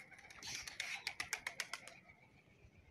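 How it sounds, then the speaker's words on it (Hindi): A quick flurry of pigeon wingbeats, a series of rapid sharp flaps that fades out, heard outdoors at moderate distance. "ये देखें हमारे कबूतर उड़ रहे हैं"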